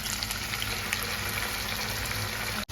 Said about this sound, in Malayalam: അപ്പൊ ഇത് എണ്ണ ചൂടായിട്ടുണ്ട്. അപ്പൊ നമ്മുടെ മീനെല്ലാം പറക്കി ഇതിലേക്ക് ഇട്ട് കൊടുക്കാം.